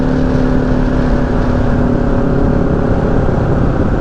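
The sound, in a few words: motorcycles passing on Foothills Parkway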